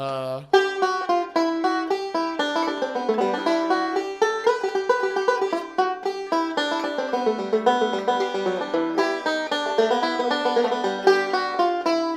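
A plucked banjo plays the fiddle tune Cherokee Shuffle, quick and bright, a steady stream of notes rolling along for several bars with no talking.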